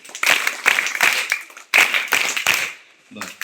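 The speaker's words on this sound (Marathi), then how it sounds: "परत एकदा गौरीसाठी 3 टाळ्या." Children in a school group clap together in three loud, bursting rounds of rhythmic claps, each round made of several quick beats, with brief pauses between the rounds.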